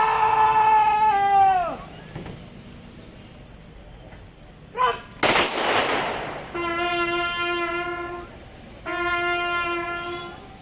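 A single sharp rifle volley cracks out at a military funeral at a heroes' cemetery in Makassar, set between sustained, droning horn tones that sound before and after it.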